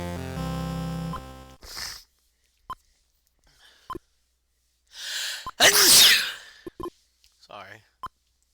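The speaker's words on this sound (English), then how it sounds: "Sorry for sneezing again." Another sneeze during a NES Monopoly game session, one loud close burst midway, preceded by short electronic game beeps and followed by brief apologetic talk.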